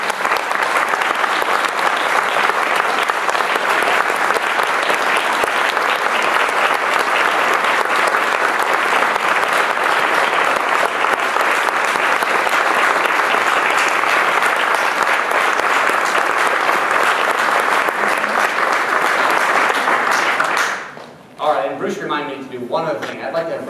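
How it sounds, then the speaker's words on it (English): Audience at a community gathering stands and applauds the teenagers with loud, sustained clapping for about twenty seconds before it dies away into a voice resuming. "I'd love it if you could stand up and give a round of applause for the teenagers"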